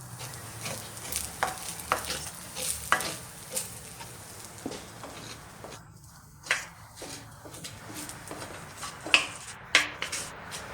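Fried rice stirred and scraped in a pan on a portable stove: a soft, low sizzle under irregular clinks and scrapes of a utensil against the pan, fairly close and moderately quiet, with no voices.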